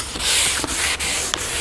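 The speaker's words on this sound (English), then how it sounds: "And I'm gonna wet sand it with a grit of 1200." Wet sanding a Lotus Elise sill with 1200-grit paper, a steady close scrubbing rasp broken by a few brief pauses between strokes.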